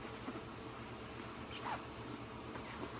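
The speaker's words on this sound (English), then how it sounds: "Lots of zippers. What is this zipper about?" A zipper on a goose down jacket is handled, giving a faint, soft rasp partway through against a steady low hum, with no talk.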